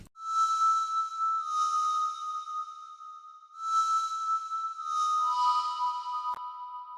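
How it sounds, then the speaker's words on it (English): A soft, airy synthesized flute-like ambient layer, drenched in reverb and panned back and forth, sustains a steady tone beneath breathy swells that rise and fade in repeating phrases. "This is like an ambient wind sound, kind of like a flute type of thing."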